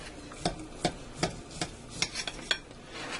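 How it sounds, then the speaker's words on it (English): A knife slices repeatedly into a resting smoked roast beef, about eight distinct cutting strokes at a steady rhythm, close and moderately loud, with no talking. "I'm going to go ahead and slice into this."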